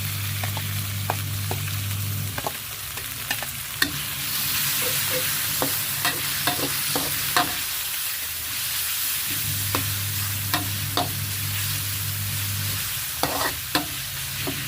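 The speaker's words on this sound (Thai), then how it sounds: "ผัดไก่ให้สุกก่อน ผัดไก่กับเครื่อง เครื่องแกงให้สุกก่อนนะคะ" Steady sizzling of chicken and curry paste stir-frying in a pan, with repeated scrapes and clinks of a utensil stirring at an irregular pace.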